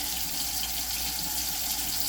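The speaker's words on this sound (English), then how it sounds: "take your container over to the sink, turn on the cold water" Cold water runs steadily from a kitchen sink tap, a continuous even hiss and splash close by with no talking over it.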